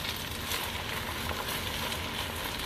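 Crushed red pepper being stirred into a sizzling pan during a salmon cake brunch cook, with a steady, close frying hiss that runs evenly throughout and carries no talking.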